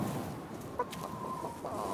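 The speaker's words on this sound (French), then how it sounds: "Quelque chose ne va pas avec les poules, Riff?" Hens clucking in a cartoon henhouse, a few short close clucks and a drawn-out squawk, with no one speaking.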